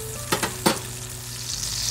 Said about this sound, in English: Now that all sides have been well seared